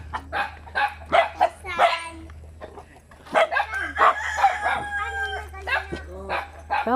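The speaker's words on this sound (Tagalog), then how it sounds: "Daming manok ah." Several chickens and roosters crow and cluck around a rural home, with a dog barking in bursts among them, calls overlapping through the scene at close to moderate distance.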